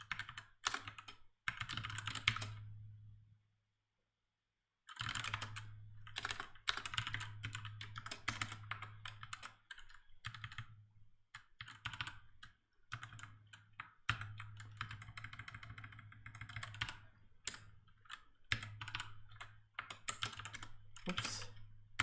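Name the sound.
typing on a computer keyboard while coding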